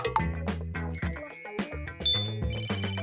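A phone rings with an incoming call, a bright tonal ringtone melody with bell-like chimes repeating over about three seconds, clear and fairly close with no talking.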